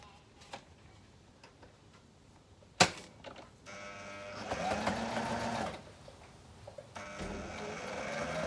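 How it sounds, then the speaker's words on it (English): A sewing machine double-stitches a fabric wheat bag in short bursts after a sharp click, its steady mechanical whir rising and pausing, close by with no talking. "I'm going to go back across and just double stitch that so it's nice and firm"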